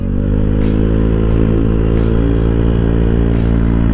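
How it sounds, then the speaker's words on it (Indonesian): A motorcycle engine strains up an uphill road with a loud, steady, rough drone close to the rider, a faint recurring rattle ticking over it throughout. "Nek neng tanjakan iku motornya rada ngeden"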